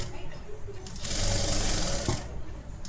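A sewing machine stitching a fabric collar, a close rapid mechanical whir that swells louder in the middle and then eases off.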